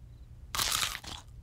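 A single crisp, loud crunch as someone bites into a raw bell pepper up close, followed by a brief second crunch of chewing, with quiet room tone before it.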